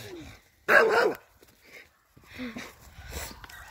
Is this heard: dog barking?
yes